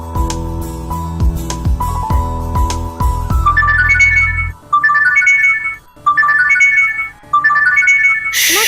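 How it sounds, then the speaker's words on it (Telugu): A mobile phone ringtone plays loud and close, first as a busy melodic tune and then as a repeating electronic chime pattern with short pauses between phrases. "ఫోన్ వస్తుంది, ఊరుకోండి."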